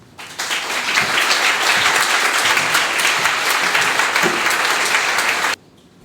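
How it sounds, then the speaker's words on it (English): Audience at a literary award ceremony applauding, a dense, even burst of clapping from many people that holds steady for about five seconds and then cuts off abruptly. "let us thank and honor her with our applause"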